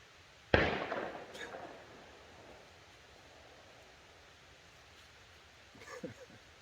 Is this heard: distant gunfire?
yes